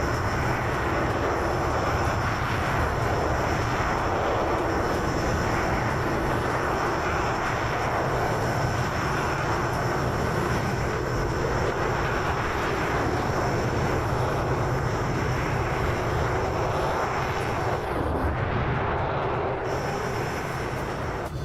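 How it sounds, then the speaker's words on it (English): Eurofighter jet fighters roar past in Microsoft Flight Simulator 2020, a loud, sustained engine rumble and whine that holds steady for the whole stretch, dominating with no talk over it. "those Eurofighters are loud, aren't they?"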